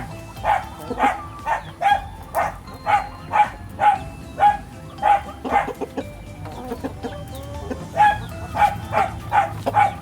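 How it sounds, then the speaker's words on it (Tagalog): A dog barks repeatedly in a steady series of sharp yaps, fairly close, with a short pause midway before the barking resumes. "Ingay yung aso."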